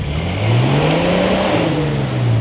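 A Jeep with non-working four-wheel drive, stuck at a campsite, revs its engine loudly and close, the pitch rising and then falling in one sustained surge.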